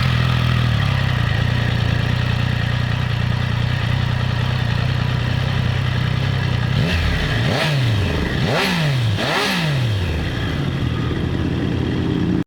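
A Triumph Tiger 660 motorcycle rides on a road in rain mode, its engine droning loud and steady, then revving up and down in several quick swells near the end.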